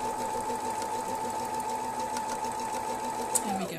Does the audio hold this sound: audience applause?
no